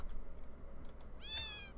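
A single short, clear cat meow in the video game Fowl Space, rising out of a faint low background hum near the end.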